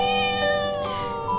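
A house cat lets out one loud, drawn-out meow that bends in pitch midway and lasts over a second, close and clear with no voices.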